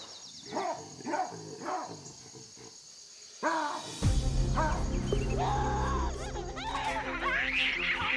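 Wild apes in Africa growl, first in a series of separate rough, barking growls, then in a louder, dense burst of overlapping snarls and calls.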